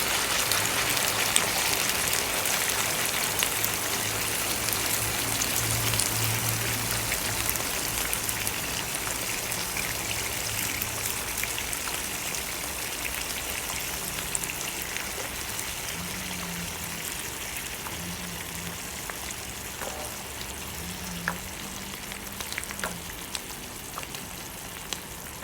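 Coconut milk pours into chicken green curry frying in a small pan, giving a steady, fairly loud sizzling hiss with bubbling and liquid spatter that runs on without talk.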